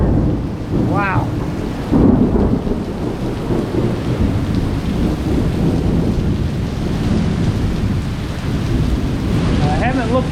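A sudden thunderstorm with heavy rain and gusting wind makes a constant loud, close wash of rain and rumbling noise. It swells briefly early on and stays dense throughout.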